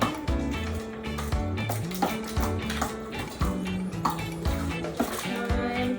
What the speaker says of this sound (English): And mix that all together.